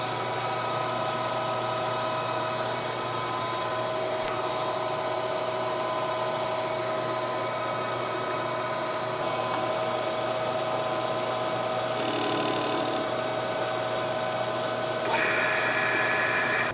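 Manual lathe turning an aluminum piston for a steam traction engine at 710 RPM on a slow finishing feed, giving a steady whirring hum with faint tonal whine that stays even across the whole stretch, with slight shifts near the end.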